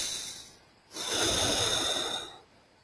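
Deep, forceful breath drawn in through the nose as an energizing breathing exercise, a single long rushing inhale lasting about a second and a half, close and fairly loud, preceded by a quieter breath.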